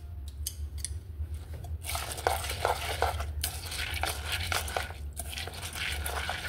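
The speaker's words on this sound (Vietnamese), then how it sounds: "Mình lấy đôi đũa mình quậy lên nha." Chopsticks stir mung beans and coconut milk in an electric rice cooker pot, giving quick light scrapes and clicks in a loose, uneven rhythm, fairly quiet and close.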